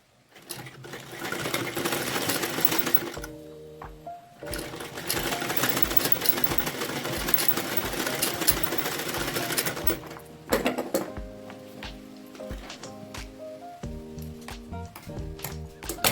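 A sewing machine stitches a cloth baby bib in steady, continuous runs of fast mechanical whirring, pausing briefly around the middle, with no talk over it.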